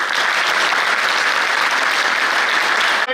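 Loud, steady applause from a packed hall honouring guests at a padyatra religious march event, continuous clapping throughout without pause.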